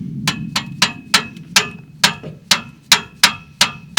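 A hammer taps engine parts of a classic Ford Mustang in a steady series of sharp, ringing knocks, about a dozen blows spaced evenly, close and clear.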